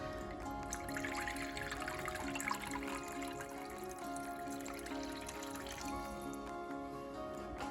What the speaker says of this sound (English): You fill up with water about halfway up the pan.